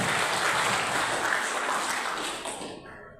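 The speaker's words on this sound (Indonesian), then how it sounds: "Luar biasa, kita tepuk tangan media." An audience at a church gospel anniversary service in Makassar applauds in a dense, steady wash of clapping that fades out over about three seconds.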